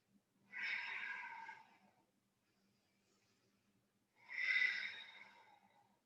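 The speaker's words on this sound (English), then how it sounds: "Few deep breaths." Two slow, deep breaths during a yoga forward fold, each a soft airy rush lasting about a second, separated by a quiet pause, close and gentle.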